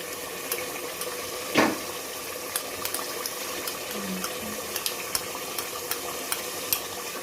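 Yogurt being stirred into a 1 kg pot of degi-style beef qorma: soft, steady wet stirring with a faint simmering sizzle and a few light clicks of the spoon, quiet and close, with no talking.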